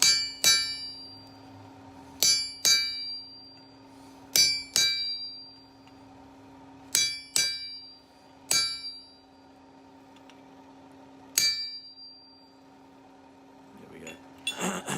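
A blacksmith hammers hot steel on an anvil while forging a planter stake, sending out bright ringing clangs in uneven bursts of one to three blows, with pauses between them and a low steady hum underneath.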